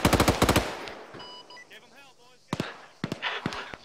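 Rapid bursts of automatic gunfire in the Arma 3 military game ring out in sharp volleys, first a dense string of shots, then scattered single cracks and short bursts after a lull.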